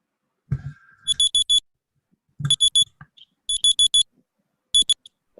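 Timer alarm going off in repeated short bursts of four shrill electronic beeps, separated by brief pauses, loud and close with no talking.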